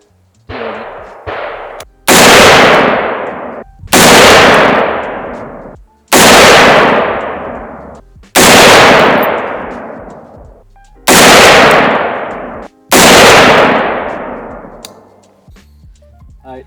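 A PA10 AR-10 rifle fires .308 rounds at steel targets outdoors. Two light pops come first, then six loud, evenly spaced shots, each followed by a long rolling echo.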